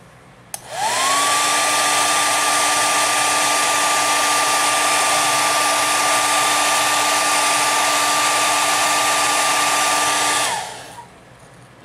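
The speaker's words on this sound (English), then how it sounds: "Apply a little heat" A hair dryer switches on and blows steadily with a loud, constant whirring roar for about ten seconds, then cuts off, heating a 1/20 scale Tamiya McLaren M23 model kit part.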